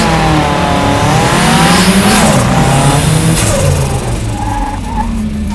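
A VW Buggy revs loudly and pulls away in a drag race, its engine note climbing through rising sweeps before fading slightly as it moves off, loud and close with no talk.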